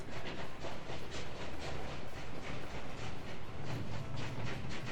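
Trains cross a bridge in a socialist city-building game, a steady rhythmic clatter of wheels over rail joints, repeating evenly and quietly with no voices.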